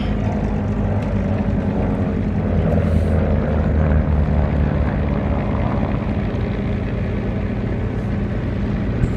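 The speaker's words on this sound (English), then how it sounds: "we now have two P-51 Mustangs coming" Two P-51 Mustang propeller aircraft flying at the Apple Valley air show, a steady, loud throbbing piston-engine drone that swells slightly midway, no voices.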